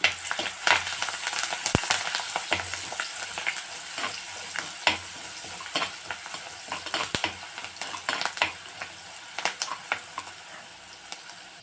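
Chopped onions and curry leaves sauté in a hot pan while snake gourd stir-fry is made, a steady close sizzle and frying hiss broken by frequent clacks and scrapes of a spoon stirring, with no talking.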